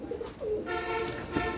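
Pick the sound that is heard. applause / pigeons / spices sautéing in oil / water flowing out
pigeons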